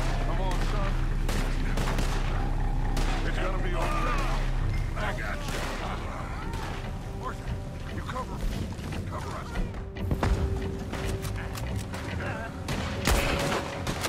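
Gunfire in Red Dead Redemption 2, with repeated loud shots and bursts mixed into busy game noise, with people talking over it throughout.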